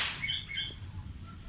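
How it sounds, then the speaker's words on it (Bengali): Birds calling with bright chirps and squawks over a low outdoor rumble of wind as a storm gathers, with a faint flutter of wings; steady, moderately close, no talking. "এই পাখিগুলো কেমন করে করছে দেখো"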